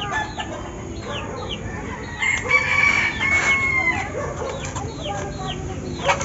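A red junglefowl (labuyo) rooster crows repeatedly outdoors, its call sitting over other fowl clucking and light background noise, with faint voices nearby.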